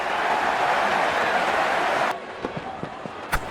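A cricket crowd at a Pakistan vs Sri Lanka T20 World Cup match applauds a batsman's fifty with a broad, sustained roar of clapping and cheering that suddenly cuts off, followed by a few scattered knocks and thumps.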